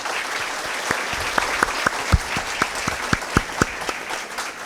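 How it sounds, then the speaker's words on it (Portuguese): Audience applause at a panel discussion: a soft wash of clapping with several sharper individual claps standing out, moderately loud and even throughout. "Por favor, eu peço aplausos para esses meus amigos."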